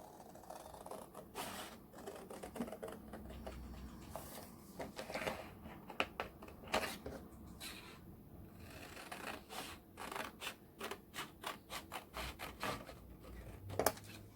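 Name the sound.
scissors cutting card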